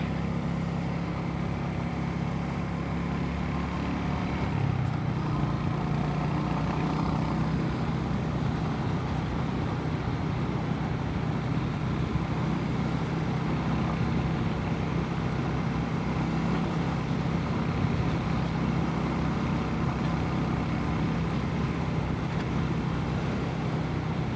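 A Royal Enfield Hunter 350 motorcycle ridden through foggy Australian countryside, with a steady low engine drone and wind rush holding at an even, moderate level throughout, with no talking.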